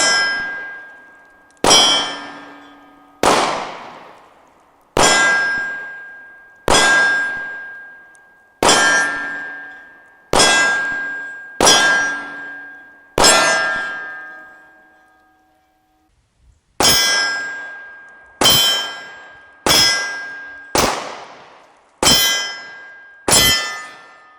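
A MAC 1950 French service pistol fires about sixteen sharp, ringing shots in an uneven cadence, each crack decaying quickly, with one brief pause midway and no talking.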